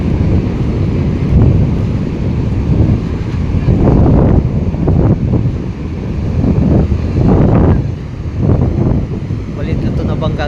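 Ocean waves and strong wind batter the microphone aboard a small fishing boat at sea, a loud continuous rumble with swelling surges of surf rising and falling every couple of seconds.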